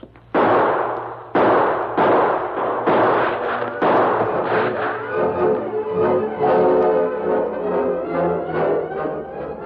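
A radio drama shootout has a rapid string of loud, sharp gunshots at the start, one after another. It is followed by lighter echoing bangs and a sustained musical ringing.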